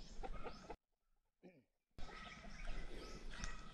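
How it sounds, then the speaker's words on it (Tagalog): Roosters clucking on a rural farm lot in Estrella, San Mateo, Isabela, with fowl calls close by amid outdoor ambience, a brief hush in the middle where a single clucking call stands out. "may mga tandang pa rito"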